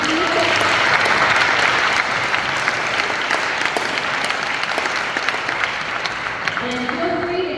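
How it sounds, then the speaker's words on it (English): Sustained audience applause greets a folk dance group, dense clapping from a sizable crowd holding steady throughout, with a voice speaking briefly near the end. "Round of applause."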